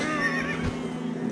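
A horse whinnies in a video game, a heavy horse archer unit, its neigh rising and wavering over a steady hum of game ambience for about a second.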